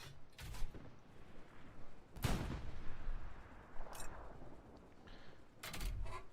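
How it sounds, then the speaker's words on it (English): Artillery shells land during a Hell Let Loose D-Day game, several booming impacts and blasts one after another with rumbling gaps between them, moderately loud and with no talk over them. "You've seen the artillery come in."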